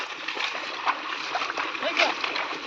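Cattle wade through water in rural Konkan, with repeated sloshing and splashing at close range and a couple of sharper splashes, while voices talk over the scene.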